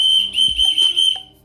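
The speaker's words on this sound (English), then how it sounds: "This is a whistle. One of those whistles if you're lost," A small emergency whistle from a survival kit gives a few short, loud, shrill blasts, close up.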